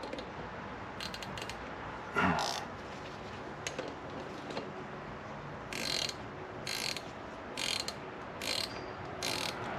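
A 3/8 ratchet turns a speed bleeder screw into the rear brake of a Harley-Davidson Softail, giving short bursts of close, rapid metallic clicking with pauses between strokes and no voices.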